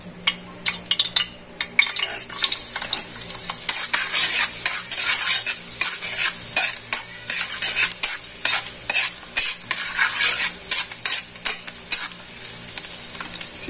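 Garlic sautés in hot cooking oil with a loud, busy sizzle, broken by repeated scraping and clinking of a metal utensil stirring against the pan.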